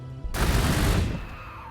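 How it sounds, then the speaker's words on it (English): A frag grenade detonates in the strategy game Warhammer 40,000: Gladius, a sudden loud blast with a crackling, rattling burst that rolls for about a second and then fades into a low tail. "Throw frag grenades to the bugman in the woods."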